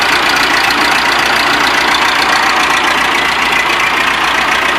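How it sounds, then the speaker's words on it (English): A backhoe's diesel engine runs throttled up, a loud, steady, rough drone that holds constant throughout with no talk. "Wait, Hayden, let's throttle it up."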